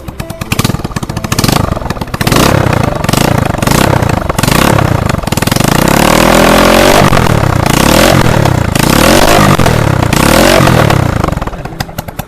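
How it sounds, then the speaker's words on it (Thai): A homemade classic-style three-wheeled motorcycle engine revs loud and close, popping in sharp bursts before holding a sustained, rattling roar that rises and falls. "เดี๋ยวลองฟังเสียงตอนเบิ้ลเครื่องนะฮะ"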